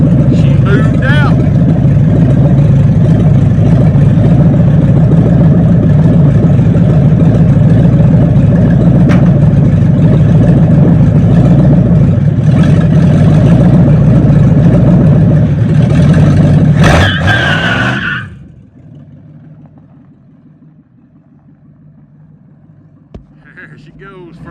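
A 1970 Ford Mustang with a 429 engine runs loud and steady at close range, then fades quickly as the car drives off, leaving quiet with a small click near the end.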